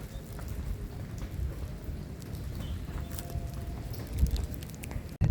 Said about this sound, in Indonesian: Ini kita lagi anginnya kencang banget.